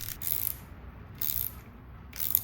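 A ratchet with a pass-through socket tightening a bolt during BMW F30 suspension work, heard as three short bursts of rapid clicking spaced about a second apart, fairly quiet and close.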